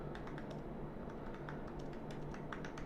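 Computer keyboard typing into a browser input field during a web-development demo: soft, rapid keystroke clicks in irregular bursts over a steady background hum, with no talking.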